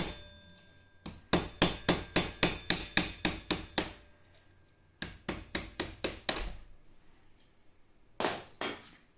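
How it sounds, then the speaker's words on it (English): Sharp metallic hammer blows knock the axle out of a Kukirin G2 electric scooter, two quick runs of about a dozen and then six evenly spaced strikes, close and loud, followed by a few lighter taps. "To take the axle out, you take one of the screws off and then hit it out."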